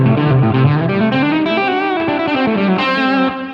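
Electric guitar runs through a Line 6 modeler with a transistor tape delay set to a high mix, in an Eric Johnson-style tone. A continuous, loud, close stream of notes smears together with echoing repeats, then trails off near the end.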